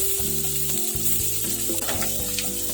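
Onions and ginger-garlic paste sauté in a pan for Kerala-style chicken, a steady close sizzle with scraping stirs running throughout and layered over a background melody.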